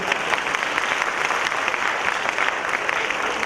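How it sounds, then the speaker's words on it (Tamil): An audience at a movie anniversary celebration claps in a dense, steady wave of applause, loud and sustained throughout with no voices standing out. "நீங்கெல்லாம் கண்டிப்பா ஒரு கரகோஷத்தோட உங்களை நீங்களே அப்ரிஷியேட் பண்ணிக்கணும்"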